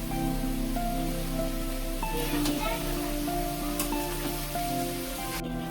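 Onions frying in a pan for a Bengali crab curry, giving a steady, close rain-like sizzle that runs throughout, with a faint hum and a voice talking underneath.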